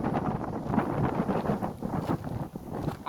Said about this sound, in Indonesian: suara angin sangat kuat ya